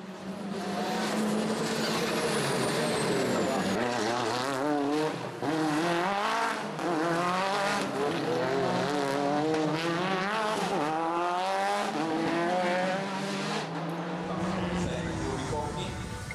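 Race cars at the Veliko Tarnovo circuit roar past in a loud, continuous wail of high-revving engines that rise and fall through gear changes, with tire noise and a commentator's voice over them.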